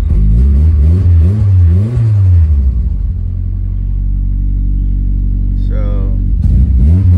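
A Nissan Sentra B13 with an SR20DET engine starts and revs loudly up and down, then settles into a steady rumbling idle before a sharp blip near the end.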